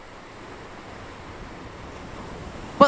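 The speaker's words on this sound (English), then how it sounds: "the sound absolutely matched the waves earlier" Ocean surf rolls in as a steady, broad hiss of breaking waves on the shore, moderately loud and continuous, with a sudden bump of noise at the very end.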